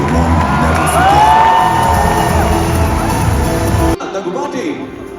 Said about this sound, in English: keep that cheer going